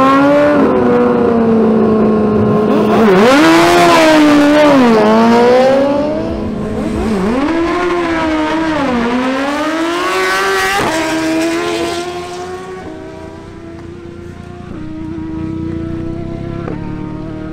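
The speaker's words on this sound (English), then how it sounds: "The spotlight now shifts back to the Suzuki GSX-R1000 of Andres Camargo." A Suzuki GSX-R1000 sportbike makes a drag racing run, its engine screaming loud and near through rising gear pulls with sharp shifts, then fading into the distance.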